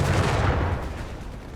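Assault rifle fire from Panzer Grenadiers in Company of Heroes 3, a dense, loud burst of overlapping gunshots that gradually thins and fades over about a second and a half, with no talking.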